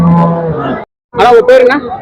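Cattle at the Morepallayam cattle market low, first in a long drawn moo and then in a second louder, harsher call after a short pause, with faint crowd chatter around.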